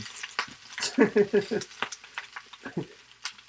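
Chinese broccoli and beef sautéing in a pan: crackling sizzle with scraping and stirring clatter, irregular clicks of utensil against metal, close and fairly loud.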